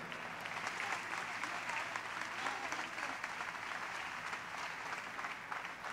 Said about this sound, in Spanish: We celebrate this moment with a strong round of applause.